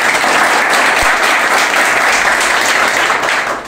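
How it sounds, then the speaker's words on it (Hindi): Loud, dense applause for teachers from an audience at a mobile repairing training class, sustained and even for several seconds before tapering slightly at the end. "ताली बजाना चाहिए।"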